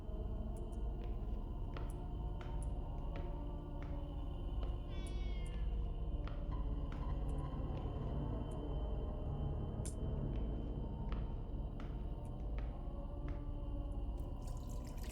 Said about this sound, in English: You're just letting the cat cry.